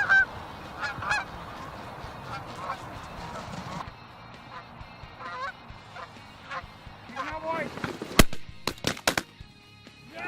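Geese honk repeatedly during a goose and duck hunt, the calls layered over outdoor background noise, followed near the end by a few sharp gunshot-like cracks.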